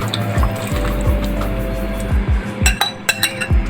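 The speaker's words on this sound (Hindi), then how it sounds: "अब मैं इसमें दाल ऐड करूँगी जो हमने बॉयल करके रखी थी।" Boiled chana dal tipped into cooked masala in a pot, with wet plops and a series of sharp clinks and scrapes of a utensil against the metal pan, close by.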